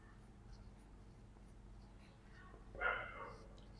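A pen writes on paper during a math lesson, a faint, brief scratching burst near the end over a quiet background.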